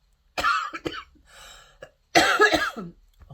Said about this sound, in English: I've still got a cough, by the way